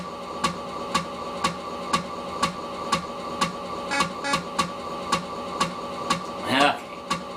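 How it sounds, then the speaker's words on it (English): Amiga floppy drive loading files for Pinball Fantasies: a steady series of soft, regular mechanical clicks about twice a second, close and fairly quiet, with a brief rustling burst near the end. "that's the sound of the floppy drive loading off the files off the floppy"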